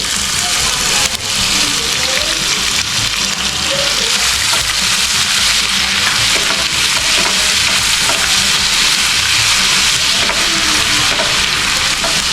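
Crushed ginger and garlic fry in oil with green chillies for a smoky chicken angara, a loud, continuous close sizzle with stirring scrapes.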